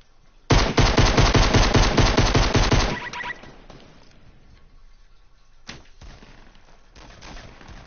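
Gunfire in the video game Fortnite: a loud sustained burst of rapid automatic shots for about two and a half seconds, then quieter ambience with a couple of isolated sharp impacts.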